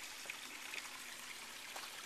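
A shallow, low-water river trickles over and between stones, a faint, steady wash of running water with a few soft splashing accents.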